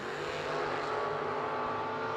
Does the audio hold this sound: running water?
no